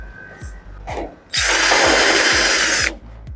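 A handheld power drill whirs in one sustained burst of about a second and a half while unscrewing the cover screws on a General Electric oven, preceded by a few soft handling clicks and knocks.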